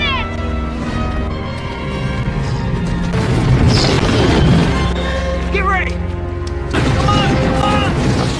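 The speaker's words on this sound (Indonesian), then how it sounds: "Satu-satunya pertolongan terakhir yang saat ini dibawa oleh Val adalah sebuah bom yang mana itu adalah senjata terakhirnya" A bomb detonates against a monster in a film, with booming blasts and crashing debris mixed with dramatic music while a narrator talks over the scene.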